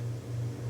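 A low, steady electrical hum from a running refrigerator drones without change, quiet and constant like an appliance motor.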